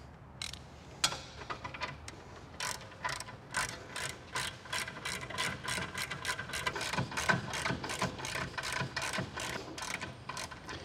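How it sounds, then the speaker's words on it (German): Ratchet tightening a nut on the rear shock absorber mount of a VW Passat, a steady series of crisp close clicks with brief pauses, no talking. "schraubst die Mutter drauf, andere Seite"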